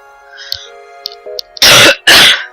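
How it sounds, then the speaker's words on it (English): Two loud harsh coughs close to the microphone, preceded by a few faint small throat noises over a low steady hum. "Coughing fit."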